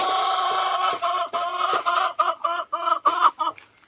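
A hen in a coop, sitting to lay an egg, gives a run of close, repeated clucking calls that come in short rhythmic bursts, growing choppier toward the end, with no voices.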